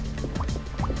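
Water poured in the video game Neighbours From Hell, a short, close gurgling fill with bubbly rising tones that lasts about a second, with no talking.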